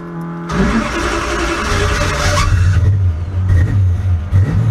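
A 1968 Dodge Dart cranks briefly and fires up, then settles into a loud, rough, rumbling idle with a few throttle blips, close and dominant.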